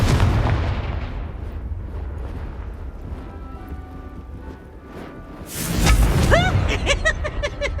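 A Confringo blasting spell explodes in the Hogwarts Legacy video game, a loud sustained rumbling blast that fades slightly mid-way, then a bright crackling burst with whistling sparks near the end.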